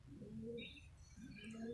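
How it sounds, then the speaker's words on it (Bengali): A pair of pigeons, one unwell with a sore wing, cooing in low, soft, rolling phrases, two drawn-out coos with a faint higher chirp in between, steady and close. "কবুতর দুটো"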